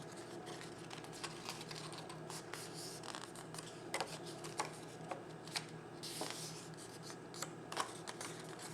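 Scored cardstock being folded along its crease lines for a Stampin' Up! tea bag holder: soft, close paper crinkles and light taps with scattered small clicks, all quiet and steady, with no voices.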